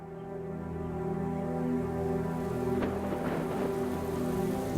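Rain falling steadily over a flooded plain in cheetah country, a dense hiss of drops that swells gently and stays even, with a low droning undertone.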